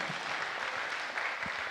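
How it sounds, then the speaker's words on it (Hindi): An audience at a Diwali celebration at Gyan Sarovar claps continuously, a dense, steady applause throughout with faint voices in the background. "इसी खुशी में ताली तो बजाओ मेरे बहन भाई"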